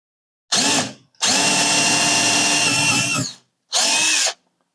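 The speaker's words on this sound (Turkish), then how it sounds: "Şimdi 5 milimlik matkabı taktık." A power drill fitted with a 5 mm bit whines loudly in three bursts while boring into wood, a short one, a long steady run, then another short one, close up with no voices.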